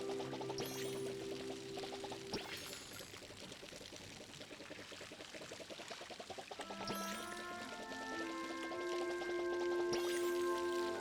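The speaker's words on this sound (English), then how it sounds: "Oh my gosh, these take so long to water." Apple trees are watered in the cozy farming game Palia, a steady trickling pour of water with rising bubbly tones and chiming game effects, continuing for several seconds without talk.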